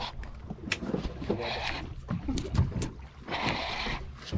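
A fishing boat's engine running at sea off Penang, a steady low rumble mixed with water washing and splashing against the hull, with people talking nearby over it.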